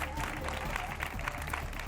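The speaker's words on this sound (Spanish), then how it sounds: "así lo han celebrado en el Hospital Universitario de Canarias, con una suelta de globos y aplausos" Hospital staff and onlookers at a university hospital in the Canary Islands applaud nurses during a balloon release, a steady wash of clapping mixed with crowd murmur and a few voices.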